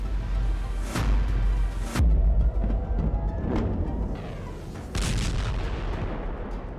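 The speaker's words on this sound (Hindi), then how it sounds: "तेल अवीव और हाइफा में गिरती हुई ईरान की मिसाइल देखिए।" Iranian missiles striking Tel Aviv and Haifa land as a series of heavy, rumbling booms, with three or four big blasts spaced a couple of seconds apart over a constant roar of distant explosions.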